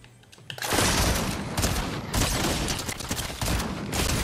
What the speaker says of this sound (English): Bro, these shotguns are ass.